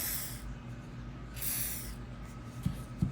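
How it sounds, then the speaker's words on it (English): Short hissing bursts of WD-40 spray hit an old brace and augers, two quick sprays close by and fairly quiet, followed by a couple of small knocks. "I'm also gonna spray this down just to see if we can loosen some things up."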